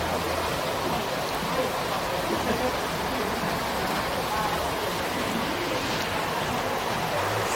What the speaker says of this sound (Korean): 비가 점점 많이 오네요